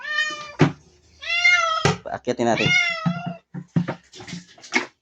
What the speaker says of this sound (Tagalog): Nahulog yung pusa.